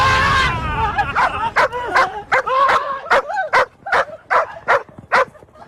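A dog barks in a quick series of about a dozen sharp yips and woofs, close and loud, following a brief burst of noise at the start.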